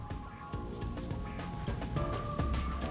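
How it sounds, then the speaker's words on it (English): Steady rainfall patters down in Master Detective Archives: Rain Code, a continuous wash of drops with soft thuds throughout, set under a faint sustained musical tone. "Does not stop raining."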